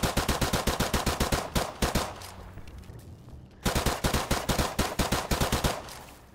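M9 pistol fired with the Double Tap perk in Call of Duty: Modern Warfare Remastered: loud, rapid bursts of gunshots in quick succession, a brief pause mid-way, then another fast volley.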